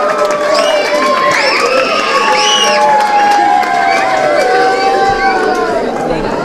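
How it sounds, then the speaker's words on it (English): A crowd at a UK tutoring awards event cheers loudly and steadily, with high whoops, shrill shouts and whistle-like cries layered over dense chatter, sustained throughout without pause. "please, with big applause"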